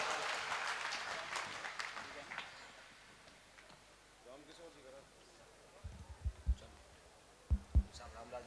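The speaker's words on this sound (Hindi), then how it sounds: "एक बार और ताली बजाएं" Audience applause at a live Rajasthani comedy stage show, a dense burst of clapping at the start that fades after a few seconds, followed by quieter scattered sounds and some talk.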